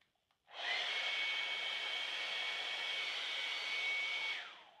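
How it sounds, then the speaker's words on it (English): A hair dryer, used to set glue on a leather or vinyl repair, switches on and blows with a steady high-pitched whir for several seconds, close by, then winds down. "you can even use a hair dryer to help um, tack up the glue"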